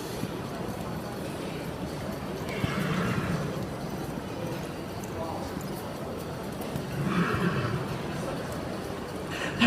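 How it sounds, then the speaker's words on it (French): Percheron draught horses at an agricultural show whinny twice, a few seconds apart, over steady crowd noise and a low murmur of voices, with no clear hoofbeats standing out. "Nos percherons qui repartent au galop pour vous montrer."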